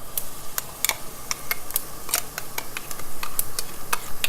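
Garlic and ginger paste roasting with chopped onions in a shrimp curry pan, heard as irregular scraping stir clicks and light ticking over a soft, steady sizzle, fairly close with no voices.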